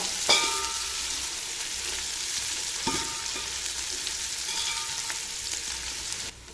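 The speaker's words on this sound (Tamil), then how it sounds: "வெங்காயம் நல்லா வதங்கணும்ப்பா" Sliced onions frying in oil for prawn biryani, a continuous close sizzle with occasional scraping taps of a spoon stirring the pan, no talking.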